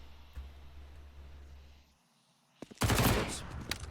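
AK rifle gunfire in a Counter-Strike match, a loud dense burst of shots erupting near the end after a quieter stretch of low rumble.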